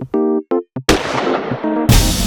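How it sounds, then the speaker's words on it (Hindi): Gunshots in a crime drama scene: a few sharp tonal bursts are followed by a loud, sustained broadband crack and rumble, then another abrupt loud blast near the end. "ये तो गोली चलने की आवाज है"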